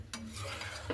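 Sago papad mixture with chopped dried chillies is stirred briefly in a pan, a faint short scrape and swish of a spoon, quiet and close with no talking.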